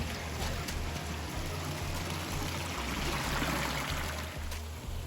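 A small waterfall in a Mississippi canyon, a steady broadband rush of falling and splashing water, fairly faint and continuous with no voices.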